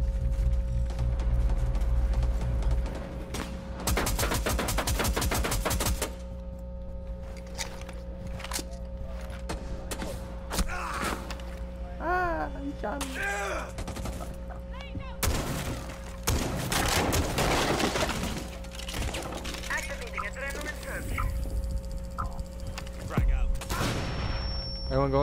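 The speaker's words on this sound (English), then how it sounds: "He's shooting at me." Gunfire in Rainbow Six Siege during a team round, with bursts of shots and impacts, loudest in the first seconds and again near the end, mixed with game effects and players talking throughout.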